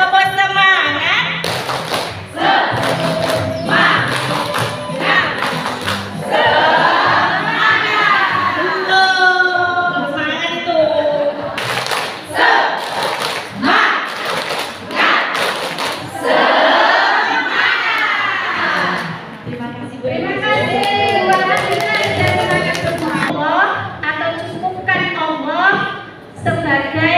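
A crowd at an Islamic study gathering and teachers' association inauguration in Malang performs the 'tepuk semangat' clapping chant, with rhythmic patterned clapping and many voices chanting together, loud and close, continuing through most of the stretch.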